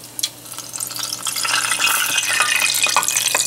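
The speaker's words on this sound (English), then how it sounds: "now we're gonna saute our vegetables" Vegetables for osso buco alla Milanese sautéing in a pan, a sizzle that swells from quiet to a steady, bright hiss after a couple of clinks, close and continuous with no voices.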